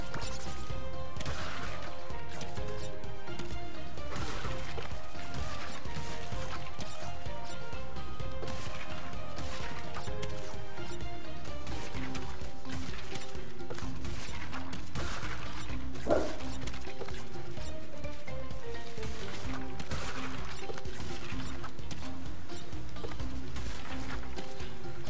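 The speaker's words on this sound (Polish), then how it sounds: "Mamy właśnie nowe techniki rozbijania skrzyń." Wooden crates smashing repeatedly in Crash Bandicoot 4, a series of sharp breaking cracks scattered over loud, continuous game music.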